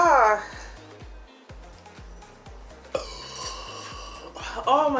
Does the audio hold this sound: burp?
yes